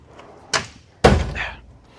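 A machinist's toolbox drawer slides with a short scrape, then a louder metallic clunk as it runs to its stop, close and alone.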